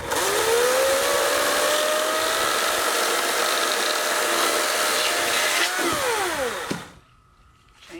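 Chainsaw running at high revs while cutting wood, a loud sustained whine that drops in pitch as the throttle is released and then cuts to a quiet idle near the end.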